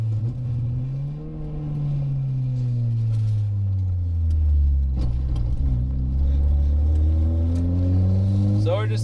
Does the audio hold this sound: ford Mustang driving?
yes